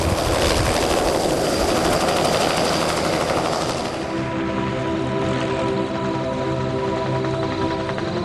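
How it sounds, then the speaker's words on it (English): Helicopter flying over the coastal town of Ipswich, Massachusetts, a loud, steady rotor chop and engine drone that runs through the whole stretch with no one talking. "Come with me now for a helicopter ride over Ipswich, Massachusetts, with a few stops on the way."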